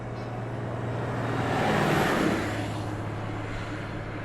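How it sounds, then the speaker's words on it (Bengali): A car engine swells as it passes close by and then recedes into the distance, a smooth steady roar peaking midway, used as a sound effect in an audio drama. "মাউয়াইনের দিকে ছুটে চলল গাড়ি।"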